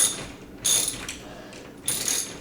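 A hand ratchet clicks in quick bursts while tightening lag bolts into a wall stud, three short rasping runs separated by pauses, close and clear with no speech.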